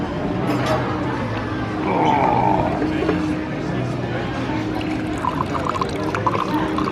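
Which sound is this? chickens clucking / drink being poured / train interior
drink being poured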